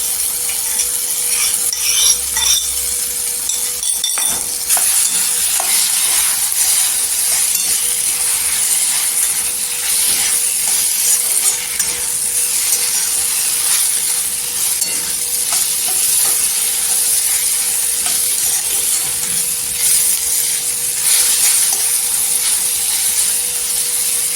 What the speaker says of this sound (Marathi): आपला भेंडीचा ठेचा टाकायचा तेलामध्ये